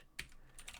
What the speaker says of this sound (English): So you can see the commands I'm typing.